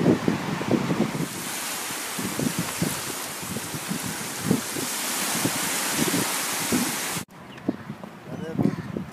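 Surf rolling onto the shore near Shediac, New Brunswick, with broad wind-blown wash and rumbling low breakers under steady microphone wind, ending in a quieter stretch with faint voices.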